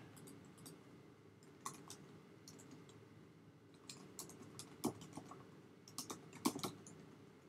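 Someone types a password on a computer keyboard in soft, irregular clicks and key taps, close and quiet, with a few slightly louder strokes near the end and no talking.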